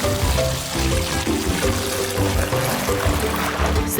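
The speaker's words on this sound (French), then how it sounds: "Il faut remplir l'aquarium d'eau" Water pours steadily and continuously into a toy aquarium, a close, full gurgling stream with shifting bubbly tones and no pauses.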